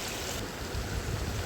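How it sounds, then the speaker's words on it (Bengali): Chicken pieces for biryani fry in hot soybean oil until browning, producing a loud, roaring bubbling sizzle that holds steady and close, with no speech. "তো আমি চিকেনগুলোকে দিয়ে দিচ্ছি তেলে।"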